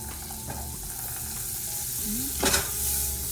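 Butter sizzling in a pan for a steak and vegetables meal, a steady close frying hiss with a brief louder burst of sizzle and a light utensil clink near the end.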